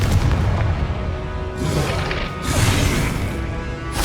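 A Confringo fire spell bursts in Hogwarts Legacy combat, heard as heavy, booming blasts and crashing impacts that roll continuously with little pause.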